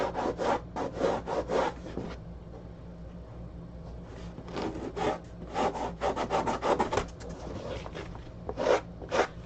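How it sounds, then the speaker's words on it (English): Coarse 40-grit sandpaper worked by hand over a wooden surface, giving repeated rasping strokes in uneven bursts with short pauses between, close and fairly quiet. "I'm going to hit it with a little hand sandpaper"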